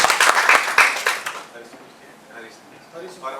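Applause from an audience at an Uttarakhand community association's honouring ceremony, a loud burst of clapping that fades after about a second and a half, followed by faint crowd murmur and voices.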